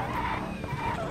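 Tires skid steadily as a drift car slides through a jump drift on a drift track in BeamNG career mode, a continuous engine-and-screech roar at close range with no talk.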